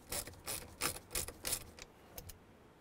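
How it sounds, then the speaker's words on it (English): A ratchet wrench with a T25 Torx bit loosens a bolt on a Chevy Silverado steering column, giving five close, even clicking strokes followed by a couple of fainter clicks. "let's go ahead and start getting the bolts out of here. I'm gonna start with this top one using a T25"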